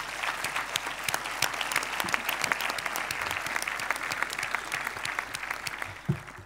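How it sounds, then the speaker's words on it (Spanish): Graduation audience at a Spanish engineering school's diploma ceremony giving a loud, dense round of applause that holds steady throughout before tapering off, with a single sharp thump near the end. "Buscadles con la mirada y dadles un fuerte aplauso"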